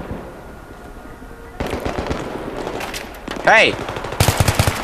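Rapid automatic gunfire in the Battlefield 3 video game, dense bursts of shots rattling continuously with a louder volley near the end, while a player shouts briefly over the noise.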